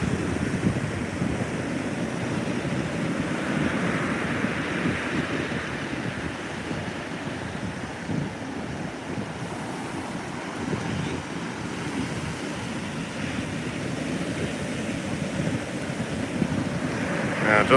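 Steady roar of ocean surf and an incoming tide at a Delaware beach during a coastal flood from Hurricane Erin, a continuous wash of breaking waves with heavy wind buffeting the microphone.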